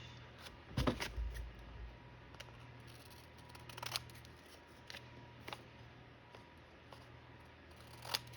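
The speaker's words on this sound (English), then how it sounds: "I'm just going to cut it in a tag shape" Scissors cut vellum paper into a tag shape, giving a few quiet, crisp snips spaced irregularly over faint room noise.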